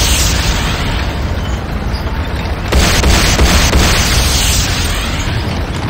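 Nod airstrip structure blowing up in the Renegade Command & Conquer shooter, a loud, sustained roaring explosion with rumbling debris that swells again midway through, close and overwhelming.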